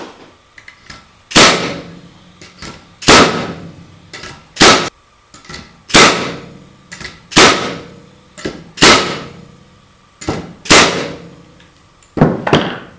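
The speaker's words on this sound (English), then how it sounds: "So let's run a few nails in here," A Porter Cable DA250A pneumatic nailer fired repeatedly, about ten sharp loud cracks with short decaying echoes, spaced unevenly a second or two apart, close up and with no talking.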